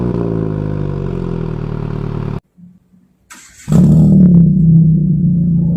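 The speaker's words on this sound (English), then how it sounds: "Let's see how a Mini Cooper starts and a Satria Neo starts." A Mini Cooper and a Satria Neo starting, heard one after the other with the focus on the exhaust: the first car's engine runs loud, then cuts to near silence, then the second cranks and fires into a loud, steady idle.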